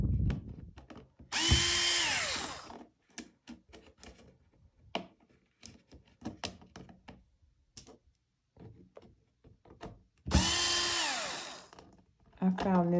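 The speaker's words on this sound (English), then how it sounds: "I'm just using a drill because it's faster" A cordless power drill backs screws out of a clock template, with two loud whirring bursts, each lasting about two seconds. Between them come clicks and handling noises, and a voice is heard briefly.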